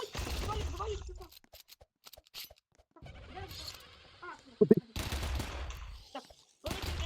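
Gunfire in the Roblox game Tower of Zombies crackles in rapid bursts with quiet gaps between volleys, and a voice talks over parts of the shooting.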